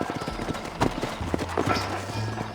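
In the Red Dead Redemption video game, horses' hooves clop and shuffle close by as riders dismount, with a low snort or neigh among the irregular hoofbeats.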